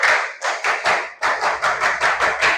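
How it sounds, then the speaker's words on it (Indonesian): Junior high school students clap together in a school setting with a steady, rhythmic beat of about a dozen close, loud claps and no talking. "Tepuk tangan buat kalian semua."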